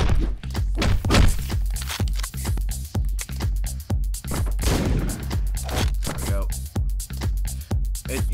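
Gunshots in the Hotline Miami video game, a run of sharp, punchy thuds repeating in a steady, rapid rhythm, loud and close, with game music and a voice mixed in underneath.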